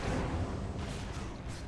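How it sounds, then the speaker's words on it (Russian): A muffled explosion from World of Warcraft 3.3.5 PvP combat: a low, rumbling boom with a noisy burst at the start that decays into a dull, steady roar throughout. "Взрыв прошел, отлично."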